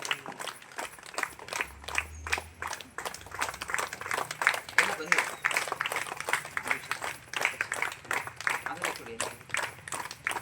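Audience applause at a felicitation ceremony honouring Kumari Chinmayi Rao and her group: a sustained, dense patter of many hands clapping over the full stretch, with voices mixed in beneath it.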